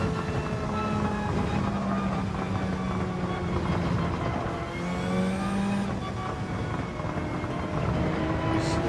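A Lamborghini engine in Gran Turismo 7 drones steadily and loudly, its pitch rising and falling through gear changes as another car's tone overlaps, continuous racing sound with no talk.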